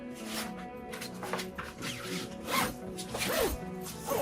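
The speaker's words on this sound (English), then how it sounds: "You can zip around, which then closes off the awning" Zipper run along the back panel of an Isabella Air X-Tension caravan awning, a series of close, scratchy zipping strokes of varying length with brief pauses, no talk.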